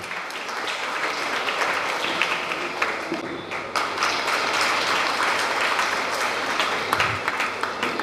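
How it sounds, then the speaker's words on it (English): An audience at a school felicitation claps for the top-scoring student, a continuous crowd applause with scattered louder claps and a brief dip partway through. "May I hear the thunder of claps for her."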